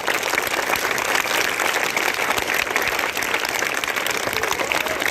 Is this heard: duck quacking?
no